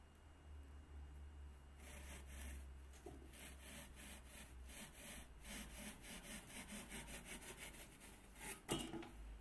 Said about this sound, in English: I'm using a pull saw to cut foam